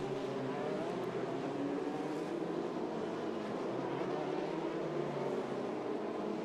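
Formula Renault Eurocup race cars lapping the street circuit at Pau, a continuous distant engine roar and whine blending into a steady wash of track noise.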